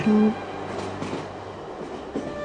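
A train running on rails, a close, steady rumble of carriage and wheels with a brief tonal squeal at the start and soft rhythmic knocks throughout.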